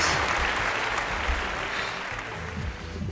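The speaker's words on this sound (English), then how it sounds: "Give yourselves a big round of applause!" An audience of children and families at a library summer reading balloon magic show claps in a full burst of applause that gradually tapers, with faint voices mixed in.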